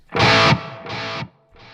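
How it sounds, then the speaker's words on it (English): A distorted guitar chord rings out and then repeats as quieter delayed echoes on the left channel, each repeat cutting off cleanly before the next. "If I just show you the left delay, you'll hear the repeats."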